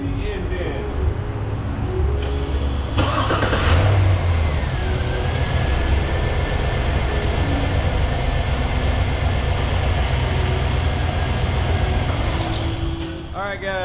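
A 2008 Hummer H2's 6.2 L V8 starts up and settles into a steady, loud idle with some revving in a shop, close and continuous, while a person talks over it.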